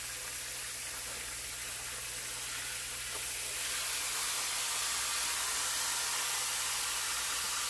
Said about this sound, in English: That's the sound of cube steak frying.